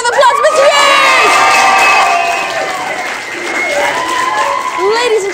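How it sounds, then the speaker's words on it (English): A school audience at St Margaret's Academy breaks into loud, sustained applause and cheering, with children shouting and whooping throughout and the noise dipping briefly before swelling again. "Big round of applause, Mr. Hughes!"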